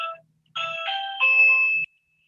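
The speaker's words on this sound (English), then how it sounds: "No, that's my doorbell." A doorbell rings alone in a quiet room, a short two-part electronic chime of clear tones lasting under two seconds.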